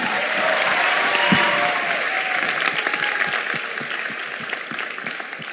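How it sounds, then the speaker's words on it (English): Sustained applause from a large audience of delegates at the grand opening ceremony of a conference, steady dense clapping throughout with no speech over it. "please give a warm round of applause for yourselves"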